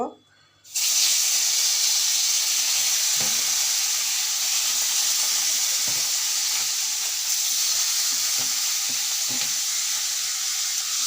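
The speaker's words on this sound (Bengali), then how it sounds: "মাছটাকে আমি ভালো করে ধুয়ে নিয়েছি ধুয়ে এখন হলুদ দিয়ে লবণ দিয়ে মাছটাকে ভেজে নিব" Khailsha fish seasoned with turmeric and salt fries in hot oil with a steady, loud sizzle that starts abruptly after a brief quiet moment, and occasional soft clicks of stirring come through underneath.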